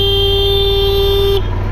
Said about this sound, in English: I just had to honk at him